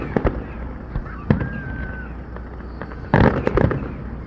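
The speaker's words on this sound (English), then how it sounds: "we're watching fireworks" Fireworks going off outdoors for a 2024 celebration: scattered sharp bangs and crackles, one whistling rise, then a loud cluster of bursts near the end, at moderate distance.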